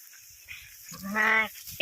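A single sheep lets out one loud, wavering bleat close by after a quiet moment, with faint rustling before it, in the evening among ewes and lambs.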